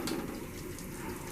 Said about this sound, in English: we're gonna turn on our cold water